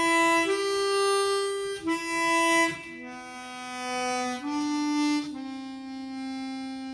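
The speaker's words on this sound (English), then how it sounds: "If you allow your diaphragm to draw the note naturally," A chromatic harmonica sounds a few long sustained notes, each starting with a gentle, smooth diaphragm attack and shifting pitch between them, close and steady with no talking.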